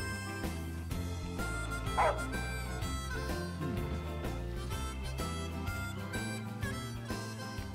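Umbra, the dog in Final Fantasy XV, barks and yips in short bursts over a game music bed, with no speech.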